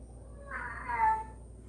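A cat meows once in the background of a quiet room, a short rising and falling cry near the middle.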